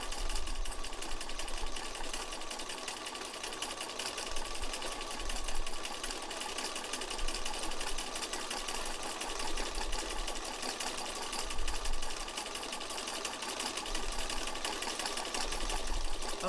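A sewing machine runs continuously while free-motion stitching flower petals, giving a fast, even mechanical whir with slight rhythmic pulses and short easings, close and alone.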